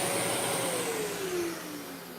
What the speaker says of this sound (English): I'm just gonna vacuum the air out here.